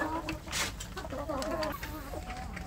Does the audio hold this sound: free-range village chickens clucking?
yes